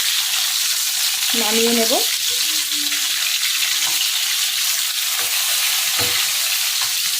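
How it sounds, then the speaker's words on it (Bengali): Fish frying in a pan, flipped and stirred: a loud, constant hissing sizzle with occasional scraping strokes, and a voice speaking briefly over it. "মাছগুলোকে আর একবার একটু উল্টে দিয়ে কিছুক্ষণ, জাস্ট অল্প কিছুক্ষণ নাড়াচাড়া করে"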